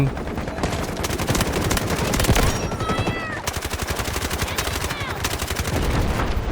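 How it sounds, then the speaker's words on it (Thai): Rapid automatic gunfire in the Delta Force shooter, loud close bursts of rattling shots that run almost without pause, with brief pings and ricochet-like chirps between volleys. "เราอุตส่าห์ยิงมั่วขนาดนี้"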